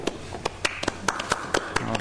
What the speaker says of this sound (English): We have our own applause in this huge auditorium